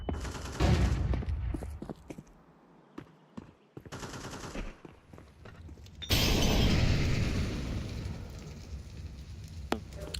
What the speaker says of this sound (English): Grenade. Grenade out. Flashbang.